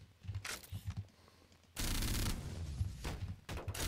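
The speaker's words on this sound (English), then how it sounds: "Die to the charge rifle" Charge rifle in Garry's Mod, a sustained buzzing beam that kicks in loudly and holds for over a second, then a second burst follows, with softer game clatter between shots.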